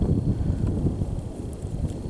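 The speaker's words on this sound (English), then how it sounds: "It's windy." Wind buffets the microphone at an outdoor shooting range on open plains, a steady low rumbling roar that fills the whole stretch without a break.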